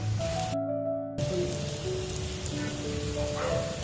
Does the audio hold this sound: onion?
yes